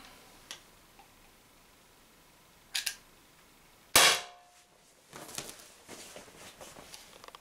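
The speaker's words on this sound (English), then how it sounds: "I don't want to shoot the balls on top of each other, so I fish them out after each shot." An Umarex HDP50 air pistol fires one sharp, loud shot. Faint clicks come before it and handling noises follow.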